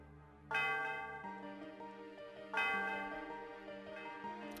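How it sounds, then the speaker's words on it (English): A bell at the Celestial Tower in the Pokemon Black video game rings twice, two loud resonant strikes about two seconds apart, each fading slowly under a soft looping game melody. "Oh, you want me to ring the bell?"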